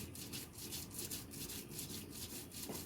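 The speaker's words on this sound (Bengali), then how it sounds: "এইভাবে আমি সবগুলো বেটে নেব।" Soaked chana dal, split chickpeas, ground into paste by hand on a grinding stone, a quiet rhythmic back-and-forth rubbing and scraping repeating steadily about three times a second.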